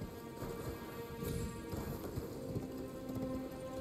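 Quiet, steady clip-clop of horse hooves in Elden Ring in a continuous rhythmic patter, heard alone against a low background hum.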